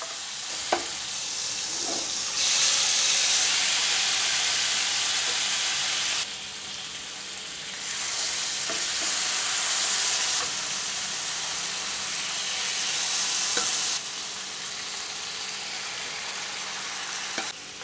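Mutton pieces frying in hot oil in a pan for bhuna biryani, a steady loud sizzle that swells and dips in waves as the meat is stirred, with occasional clinks of a spoon.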